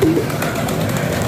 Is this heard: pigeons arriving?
yes